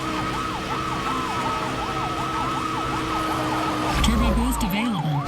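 Wailing police sirens from a high-speed pursuit in the racing game Need for Speed: Hot Pursuit (2010), steady and close throughout, with a second siren joining and a louder rumbling engine burst near the end.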